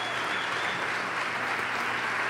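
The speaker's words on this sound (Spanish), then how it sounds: "Y también yo quiero que le den un aplauso a todos" An audience applauds at a concert tribute, with dense steady clapping from many hands that stays loud and even throughout.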